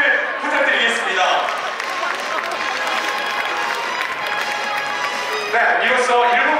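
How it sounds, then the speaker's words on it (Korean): A crowd at the founding ceremony of the Hanwha Eaglets youth baseball club applauds the team members and a school principal, a dense, steady wash of clapping that holds throughout and swells slightly at the end. "봉주하나의 걸레츠 단원들과 이용한 교장 선생님의 응원의 박수를 부탁드리겠습니다"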